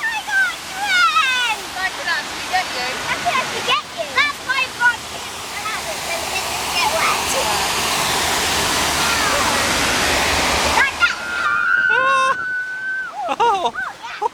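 Water rushes and roars loudly and continuously around a boat on the Efteling rapids ride, with excited voices talking and calling out over the torrent near the start and again at the end.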